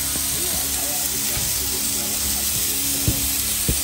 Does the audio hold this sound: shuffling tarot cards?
no